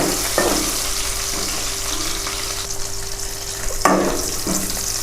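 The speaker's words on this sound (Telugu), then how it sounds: "కొన్ని జీలకర్ర, ముందుగానే కట్ చేసి పెట్టుకున్న పచ్చిమిర్చి కొంచెం ఫ్రై అయ్యే వరకు వేసుకొని" Cumin seeds and cut green chillies fry in hot oil, making a loud, continuous close sizzle with a couple of sharper stirring scrapes on the pan, while preparing a bitter gourd fry.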